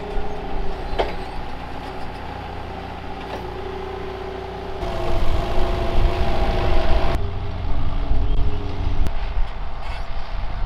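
Heavy delivery trucks loaded with building supplies for carpenters idle at a hog barn construction site, a steady low diesel rumble that grows louder and rougher midway, close and continuous with no talk.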